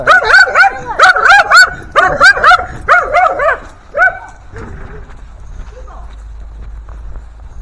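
A dog barks rapidly in a burst of sharp, close barks for about four seconds, then fades into background noise and faint sounds.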